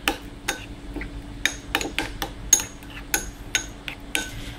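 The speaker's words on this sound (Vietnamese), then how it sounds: "mình sẽ trộn đều cái phần sốt này lên" A utensil stirring marinade sauce in a bowl, giving a series of sharp, close clinks and taps at an irregular rhythm over a quiet background.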